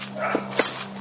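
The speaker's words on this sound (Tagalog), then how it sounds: "May aso, may aso." A dog barks briefly at an unfamiliar site. Two short, faint yips sound in the middle of a steady electrical hum and background noise, with no one speaking.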